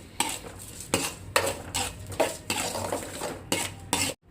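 A metal spoon stirs onion and tomato paste in a pot for fish curry, rhythmic scraping strokes against the pot roughly every half second, close and clear, with a faint sizzle beneath and no talk.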